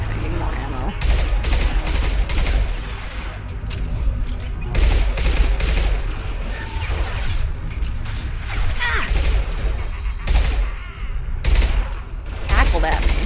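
Rapid bursts of automatic gunfire and blasts crackle almost nonstop through a firefight in Mass Effect 2 on Insanity difficulty, loud and dense with mechanical clatter mixed in.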